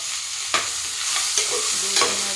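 Ghee rice sizzles steadily in hot ghee while a spoon scrapes and stirs it in the pan, with a few sharper scraping strokes over the constant close frying hiss.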